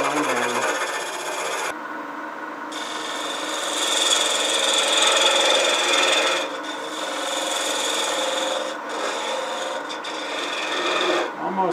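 Waste wood is turned away on a lathe while shaping a clamshell box, giving a continuous scraping, hissing cut close by. Its tone shifts a little as the tool moves, with a few short dips.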